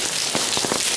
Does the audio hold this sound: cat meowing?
no